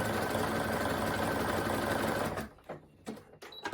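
Close sewing machine stitching a side seam on a striped knit T-shirt, running at a steady hum for over two seconds before stopping abruptly, followed by a few light clicks and handling noises.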